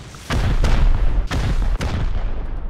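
Explosive rockets blasting open a base in the video game Rust, four heavy booms spaced across the moment, each a sharp loud hit trailing into rumbling noise.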